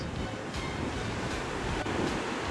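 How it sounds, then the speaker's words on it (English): Ocean surf rolls continuously onto the shore at full tide off the coast near Esperance, Western Australia, a steady broadband wash with a few louder breaking surges and some wind noise across the microphone. "So the waves are 2 meters higher than normal."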